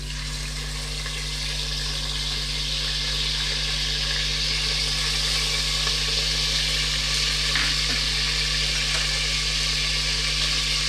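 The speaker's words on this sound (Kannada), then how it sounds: "ಈಗ ಇದಕ್ಕೆ ಶುಂಠಿ ಬೆಳ್ಳುಳ್ಳಿ ಪೇಸ್ಟ್ ಇಟ್ಕೊಂಡಿದ್ನಲ್ಲ ಅದು ಹಾಕ್ತಾಯಿದ್ದೀನಿ" Ginger garlic paste frying with whole spices such as cinnamon, bay leaf, star anise and cardamom, producing a steady, close sizzle beneath a constant low hum throughout.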